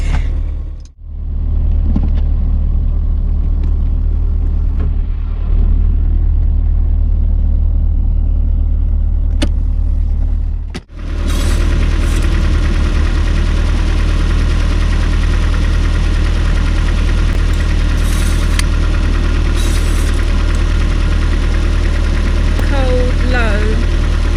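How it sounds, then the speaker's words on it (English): A Rover P6 engine idles steadily at low revs, loud and close, with a couple of brief dropouts early on before the rumble continues evenly with some background clatter. "we leave the engine running and we check the dipstick"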